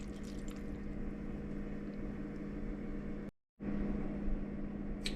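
Water poured into a large pot of chopped, peeled and cored pears with lemon juice, a steady soft splashing stream, faint and close, briefly cut off before resuming.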